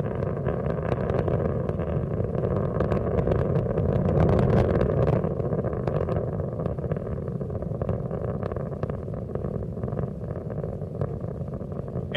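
The three liquid-fuel main engines of a space shuttle roar in a steady, heavy, rumbling drone during launch as they throttle back, continuous and loud with no voices.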